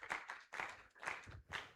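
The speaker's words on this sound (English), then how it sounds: "Please encourage him, applaud him as he comes." Applause for a prize winner at an agricultural extension week event in Uganda: faint, scattered clapping in uneven bursts from a small crowd, fairly distant.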